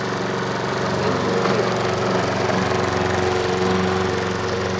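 A very loud strimmer (weed-eater) runs continuously and close, its engine droning and whining steadily around a horse without pause, with no voices.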